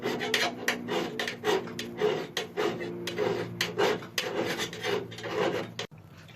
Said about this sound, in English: I need to clean any spot welds off these flanges of the body mounts